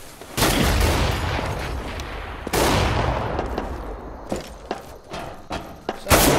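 Gunfire and grenade blasts in a CS:GO match on the Logs map, with a dense burst of shots and booms opening the round, a second loud blast midway, then scattered sharp single shots and thuds fading toward the end.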